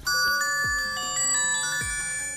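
A phone chimes with a notification as an OTP text message arrives, a clear, loud electronic tone with bright sustained harmonics repeating a few times over a couple of seconds, with no talking.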